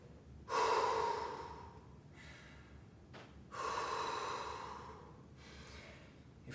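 After a HIIT workout, a person breathes heavily up close: two loud, drawn-out inhale-exhale cycles with audible gasping, each fading into quieter breaths.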